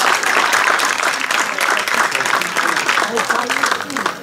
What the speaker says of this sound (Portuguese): Uma salva de palmas para a viola da terra da Ribeirinha, Osvaldo Lima.